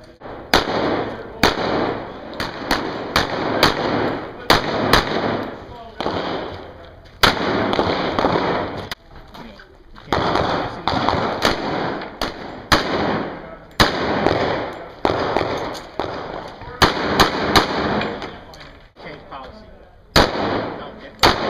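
Gunshots from a custom Colt 1911 pistol on a shooting range, loud sharp reports repeating at irregular intervals, mixed with other shots and talk between them.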